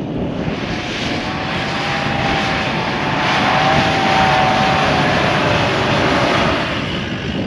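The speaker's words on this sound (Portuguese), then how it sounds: "Lá vem o troller de novo. Ele vai subir mais difícil ali, que ali é mais alto." A Troller off-road vehicle climbs a tall sand dune with a loud, steady engine roar that swells slightly as it strains upward, with broad rushing noise and no speech.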